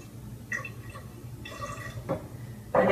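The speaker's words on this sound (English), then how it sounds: "So your first ingredient is Romania, and you're going to do 90 mils of Romania. Pour it into this beautiful cylinder." Herbal tincture poured into a measuring cylinder, heard as a few soft splashing and trickling bursts, quiet and close, ending in a louder pour.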